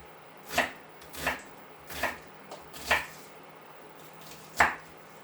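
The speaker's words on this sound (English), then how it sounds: "I'm just going to go straight down the onion, like that, and across." A knife chopping through a large onion on a board, five sharp, separate cuts at an uneven pace, close and fairly quiet, with no talking.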